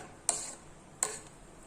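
A spoon stirs lentil curry with turmeric in a pot, two quick scraping clinks about a second apart, quiet and close with no talk.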